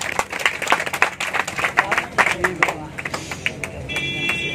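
Crowd applause at a memorial gathering honouring guests such as a former village head, dense clapping swelling and fading in bursts, with voices mixed throughout.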